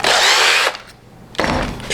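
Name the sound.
power drill boring holes in wood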